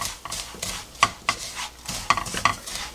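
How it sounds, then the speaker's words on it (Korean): A utensil stirs sesame and perilla seeds through hot syrup in a pan for homemade sesame candy, giving soft gritty scraping with a few sharp clinks against the pan, close and fairly quiet. "열이 있는 상태에서 이렇게 좀 섞어줍니다."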